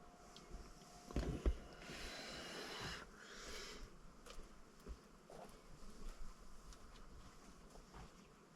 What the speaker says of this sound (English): Oh, it went straight in my ear,